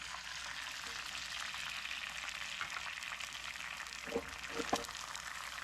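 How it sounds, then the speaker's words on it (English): Steady crackling sizzle of eggs poured into a hot pan greased with cooking spray, with a few brief louder pops and spatters near the end. "And then gently pour the eggs in."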